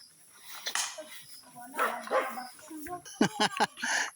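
A dog barks several times in short, sharp bursts, mixed with voices talking nearby.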